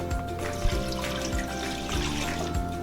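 About 750 millilitres of cool water is poured for an apple pie filling, making a steady, close splashing rush that runs without a break. No voices are heard.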